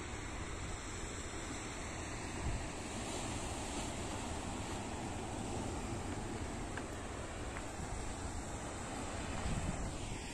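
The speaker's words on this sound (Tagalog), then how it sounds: "Grabe yung alon, no?" Strong ocean waves surge and wash onto a beach in a continuous broad roar, mixed with wind buffeting the microphone, with no talk.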